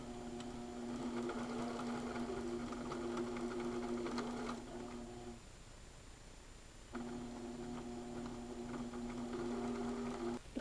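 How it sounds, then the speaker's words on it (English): A sewing machine stitches layers of skirt fabric together, its rapid steady whirring hum running close up, briefly pausing in the middle before resuming at the same pace. "you can sew all these layers together before sewing on the waistband"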